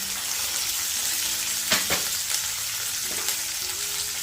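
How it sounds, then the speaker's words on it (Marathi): Vegetables with fresh chickpeas, green peas and broad beans sizzle steadily in a hot pan, a continuous close frying hiss broken by a few soft stirring scrapes. "आणि परतून घेणार आहे पावटा घातला ओला हरभरा हिरवे मटार ओले मटार"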